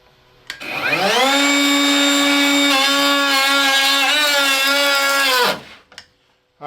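Cordless plunge router, Makita 40V or DeWALT 20V, spinning up loud and steady as it cuts, its motor whine dipping and wavering mid-cut as it bogs toward a stall, then winding down abruptly with a brief clatter after.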